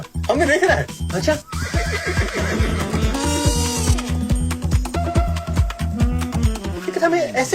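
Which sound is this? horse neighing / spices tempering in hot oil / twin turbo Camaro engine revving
horse neighing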